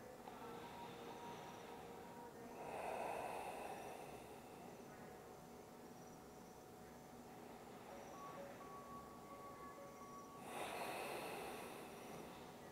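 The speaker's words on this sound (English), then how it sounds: "Last few cycles of breathing." A person breathes slowly in deep cycles while holding a hip stretch, two louder exhalations standing out above a steady background hum, with no talking.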